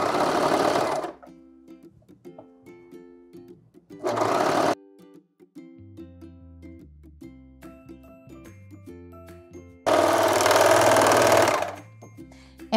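A sewing machine stitches the side seams of a T-shirt dress in three loud whirring bursts, short, shorter, then longer, separated by quiet pauses with faint background music.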